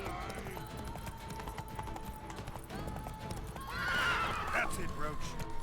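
Roach, the horse in The Witcher 3: Wild Hunt – Blood and Wine, gives a loud whinny in the game near the end, amid hoofbeats, music and someone talking over the action.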